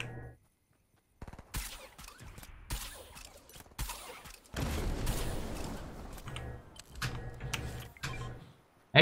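Fortnite gunfire shoots at C4 explosives in short, sharp clusters of shots separated by quiet gaps, ending with a sustained noisy burst, moderately loud and close.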